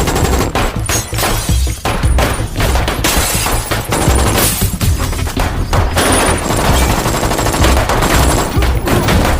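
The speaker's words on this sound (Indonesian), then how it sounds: "Pertempuran senjata tidak bisa dihindari" Dense, loud gunfire from a gun battle in a film action scene, rapid bursts and volleys of shots firing almost without pause, with sharp cracks and occasional heavier booms throughout.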